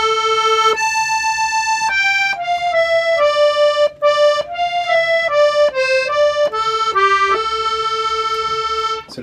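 Charango plays a repeating melodic phrase from a tune, a clear run of bright plucked single notes stepping down and back up in steady rhythm, close and loud with no voices.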